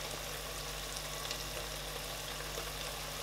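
Peppery mixture frying and drying down in a pot for spicy fried beef, a soft continuous sizzle and hiss that stays even and fairly faint throughout, with no voices.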